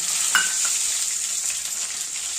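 Semolina roasting in ghee in a kadai, a bright steady sizzle with a brief metallic clink of a spoon near the start, close and constant throughout, with no talk.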